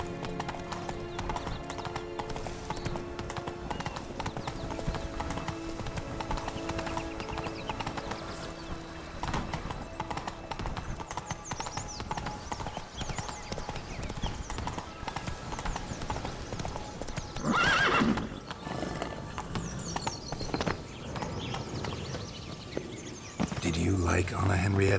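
A horse in The Witcher 3: Wild Hunt, Blood and Wine expansion, trots with a steady, rhythmic clip-clop of hooves and gives a brief neigh, under ongoing background music and character dialogue.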